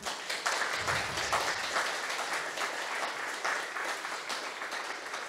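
A lecture hall audience at a history talk breaks into sustained applause, thick and continuous clapping from many people that stays level from start to finish, with a brief low thump early on.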